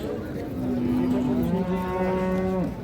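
A Holstein Friesian dairy cow at a cattle market gives a long drawn-out moo, clear and fairly close over a busy crowd murmur.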